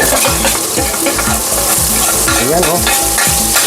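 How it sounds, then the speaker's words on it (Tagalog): Garlic, ginger and onion sauté together in a hot pan for a home-cooked chicken curry, a loud steady sizzle with repeated scraping stirs, close up, as a voice briefly speaks over it. "Gisahin natin ang bawang."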